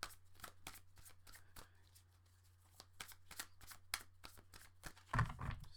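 A deck of tarot cards is shuffled by hand, giving quick crisp riffling and flicking bursts up close, with a faint low hum underneath and a brief louder knock near the end.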